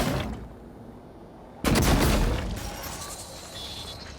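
An automated turret in the video game Prey opens fire with a sudden loud burst of rapid shots that rumbles on and fades over a couple of seconds.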